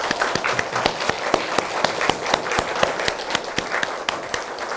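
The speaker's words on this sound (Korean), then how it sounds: "우리 하나님께 영광의 박수 할까요?" Church congregation clapping together in a steady, even rhythm of sharp claps, fairly close and moderately loud, with no talking over it.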